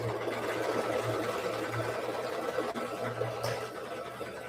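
An embroidery machine stitches a trim and placement line with a quick, steady mechanical whirring and pulsing, close and moderately quiet, with a small click partway through.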